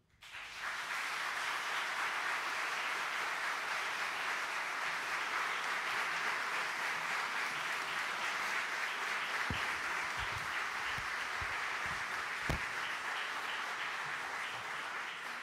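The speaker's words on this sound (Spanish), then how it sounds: "El público les puede brindar un merecido aplauso." A hall audience at a Chilean Supreme Court swearing-in ceremony for new lawyers applauds, a sustained, even roar of many hands clapping from a distance, with a few sharper nearby claps standing out near the end.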